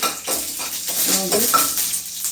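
Dried red chillies, mustard seeds and curry leaves tempering in hot oil in a pan for an amaranth greens dish, with spattering crackles and scraping pan clatter.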